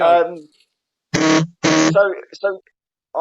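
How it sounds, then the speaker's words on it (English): Two loud, harsh buzzer blasts sound in quick succession, with people talking just before and after. "Who put a buzzer in?"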